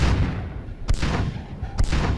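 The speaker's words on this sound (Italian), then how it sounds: "I cannoni stanno sparando alle navi." Two sharp, heavy cannon booms about a second apart, each followed by a long rumbling decay, with no voices.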